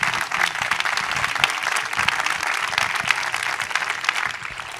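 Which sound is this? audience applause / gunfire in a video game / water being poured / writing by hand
audience applause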